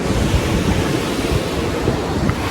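Weinia waterfall in Meghalaya pours down with force, a steady, dense roar of rushing water that stays loud and unbroken throughout, with no voices.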